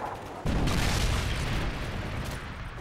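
A Predator missile explosion in the Modern Warfare 3 video game lands as a heavy boom, then rolls on as a sustained, loud, rumbling roar with no talk.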